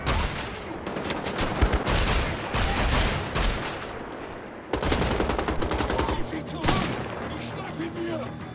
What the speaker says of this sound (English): No, dual wield assault rifles.